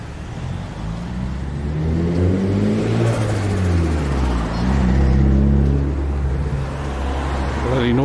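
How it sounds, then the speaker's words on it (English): Loud cars rumble and roar past one after another, engines droning and swelling as they go by, with a steady road noise throughout. "Bloody noisy cars, eh?"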